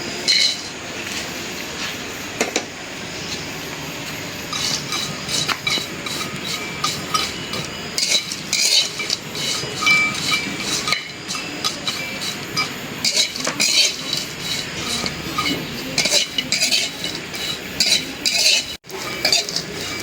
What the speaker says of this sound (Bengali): প্রথমে আমি শুটকি মাছগুলি ভাইজা নিব